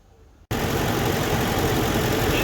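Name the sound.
2004 Ford F150 5.4 engine idling after startup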